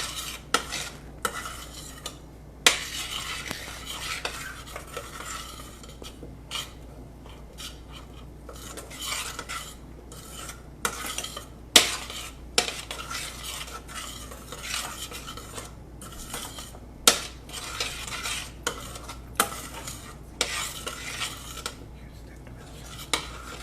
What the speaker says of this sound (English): It takes about 2 to 3 minutes on high heat for the onions to be sauteed.